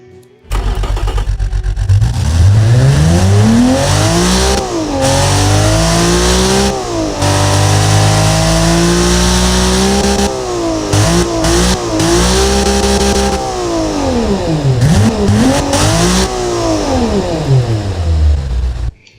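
A Mercedes-Benz M104 2.8L inline-six in the Automation game revs loud and close, climbing and falling through repeated sweeps toward high RPM with brief pauses between pulls, no voices over it.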